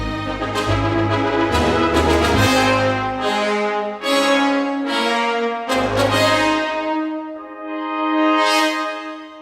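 A full orchestral brass section plays a melody, trumpets harmonized in chords over horns and trombones in unison, with low brass accenting strong beats; loud, sustained phrases separated by short breaks, no voices.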